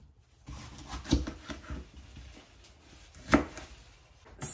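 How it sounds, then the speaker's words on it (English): A knife chops butternut squash into large chunks on a cutting board for soup, giving a few sparse, sharp thuds at irregular intervals against quiet kitchen background. "You simply chop them in large chunks"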